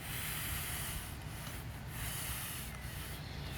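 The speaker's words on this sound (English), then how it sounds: "You just brush it in both ways and it just sinks into the holes" Sand being brushed back and forth into an artificial turf putting green, a steady close scratchy rubbing that continues for the whole stretch without pauses.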